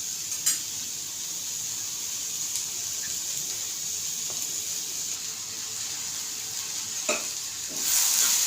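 Onion frying in a pan until browned, with a steady hiss of oil and occasional spoon scrapes; cooking sounds alone with no talk.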